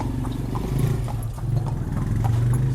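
A mare being ridden by a new rider clip-clops along in a steady, regular hoofbeat rhythm over a low background rumble, close and moderately loud, with no voices.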